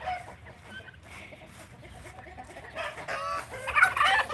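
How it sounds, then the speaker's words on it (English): A chicken loose on a family farm clucks outdoors in light drizzle, soft scattered calls at first and then louder, sharper clucks near the end. "there's a chicken out"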